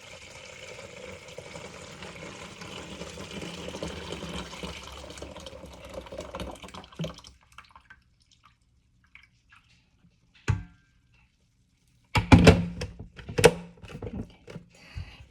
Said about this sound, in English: I'm just going to slowly pour this into the bowl.